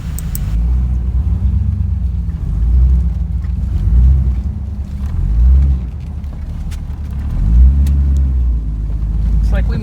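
A four-wheel drive vehicle grinds slowly over off-road desert terrain near Desert Hot Springs, its engine giving a loud, low rumble that swells and eases in waves as it struggles through a tight turn.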